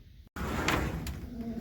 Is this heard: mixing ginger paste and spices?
no